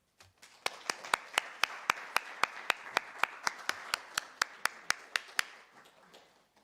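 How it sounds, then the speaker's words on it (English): An audience at a youth panel event on the energy crisis applauds as speakers take their seats. Sharp, evenly spaced claps ring out over a softer wash of applause for about five seconds, then fade. "can we give them a round of applause as they take their seats?"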